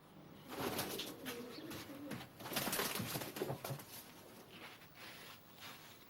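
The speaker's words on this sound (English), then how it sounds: "When the racer gets closer, Jim throws this pigeon into the loft. And down comes the racer." Racing pigeons at a loft on race day, with close coos and bursts of flapping wings against a busy outdoor background, loud and fairly continuous with no talk.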